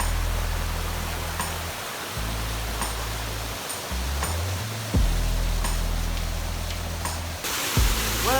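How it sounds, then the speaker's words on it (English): A hot spring stream's waterfall crashes down in a steady, loud roar of water, close by, with a few brief handling bumps and no voices. "I know it's quite loud with the water crashing down"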